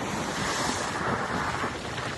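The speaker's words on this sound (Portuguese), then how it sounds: "O mar tá bravo." Rough sea waves crash and wash along the Florida coast while strong wind buffets the microphone, a dense, constant roar of surf and gusts.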